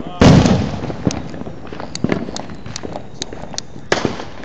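A Shotgun Wedding 500 gram 30-shot firework cake goes off outdoors: a loud opening burst, then a rapid irregular string of cracking, popping shots with faint launch thumps, ending in another sharp report.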